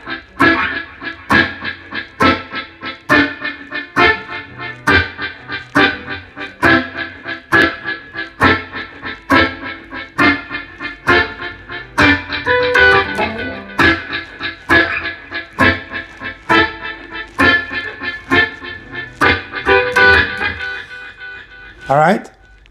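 Electric guitar plays a riff, muted choppy upstroke chords in an even reggae rhythm repeating throughout, clear and close, with a brief busier run in the middle.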